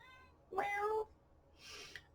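A single clear cat meow, close and moderately loud, followed shortly by a softer, breathier second meow.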